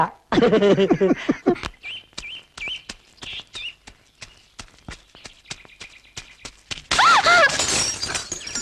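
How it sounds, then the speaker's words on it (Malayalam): A glass bottle shatters with a loud crash at the start, followed by scattered clinks and small taps. A second burst of breaking glass and noisy clatter arrives near the end. "എന്റെ കുപ്പിയും പൊട്ടി."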